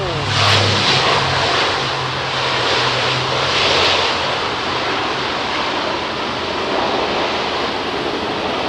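An airliner comes in to land on a windy day at London Heathrow, its engine roar broad and loud against gusting wind that buffets the microphone throughout.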